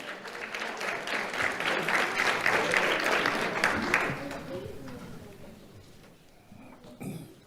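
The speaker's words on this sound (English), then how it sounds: "Let's have a round of applause for Alvin Kelly." Applause from an audience at an awards ceremony for young people doing the right thing, fairly soft and moderate in size, fading away about halfway through to near quiet with a few faint stray sounds.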